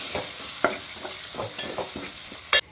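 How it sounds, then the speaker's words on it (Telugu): Spice paste with salt, chili powder and garam masala being stirred in a pan for an egg and shallot tamarind curry: a steady frying hiss broken by repeated scraping strokes of the spoon, ending in one sharp clatter. "ఇప్పుడు ఒకసారి కలుపుకోవాలి."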